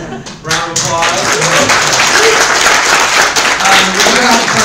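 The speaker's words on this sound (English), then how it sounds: "Round of applause." An indoor meetup audience breaks into applause after a React Native talk, dense clapping that swells quickly and holds steady, with a voice speaking briefly at the start.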